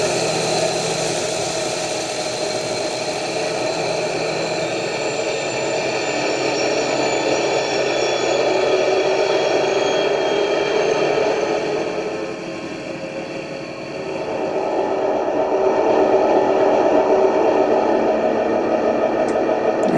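An EM2 locomotive engine sound on a model railway speaker, a steady mid-range electric hum and whine that dips briefly in level, then returns and settles toward idle.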